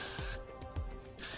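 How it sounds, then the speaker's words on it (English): Extra Body Finishing Spray is sprayed onto styled hair in short, close aerosol hissing bursts, with a brief pause between them. "I'm using Extra Body Finishing Spray,"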